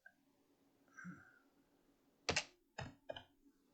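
Fingers tap a computer keyboard in a quiet room, a few faint clicks followed by three close, crisp keystrokes in quick succession near the end, with soft background rustle.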